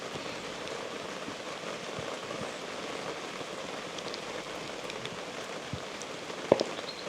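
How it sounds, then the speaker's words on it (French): Steady rain falls outdoors, a continuous close patter on surfaces with scattered heavier drops and a couple of brief knocks near the end, with no voices. "Bon, bah, ça va être une vidéo sous la pluie."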